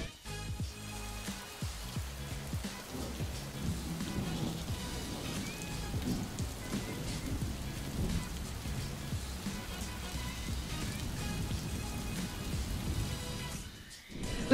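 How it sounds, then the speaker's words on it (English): Rain falls steadily on a tea farm in Georgia, an even, dense hiss that lasts throughout, with some faint background sound mixed in. "it's raining"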